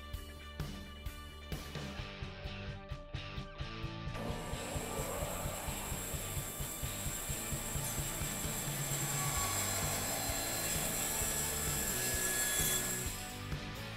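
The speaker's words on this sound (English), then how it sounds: "When you're working on a bandsaw, whether it's a general cutting or resawing" A bandsaw resaws a wood board guided by a magnetic featherboard, starting with a sharp mechanical rattle, then settling into a loud, steady broadband hiss of blade cutting through wood for about ten seconds with no talking.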